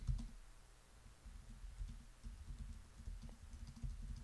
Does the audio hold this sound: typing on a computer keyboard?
yes